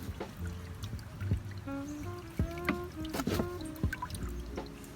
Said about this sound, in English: So as water comes down, it starts dripping and it slowly hits all the cells.